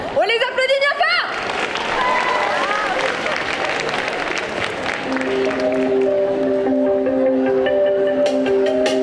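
Audience clapping and cheering greet cosplayers at a Saturday cosplay parade during a Japan manga festival, sustained crowd applause after a voice at the start, with a music tone entering midway.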